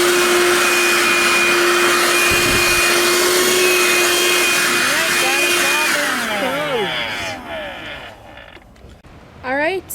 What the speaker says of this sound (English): this is the Audew portable car vacuum cleaner